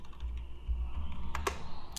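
Computer keyboard typing code, a quick run of close, crisp key clicks with no talking.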